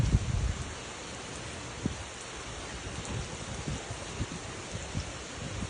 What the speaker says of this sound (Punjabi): ਬਸ ਮੀਂਹ ਪਈ ਜਾਂਦਾ ਮੀਂਹ ਪਈ ਜਾਂਦਾ